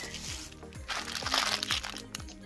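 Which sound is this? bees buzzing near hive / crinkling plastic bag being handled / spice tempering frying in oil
crinkling plastic bag being handled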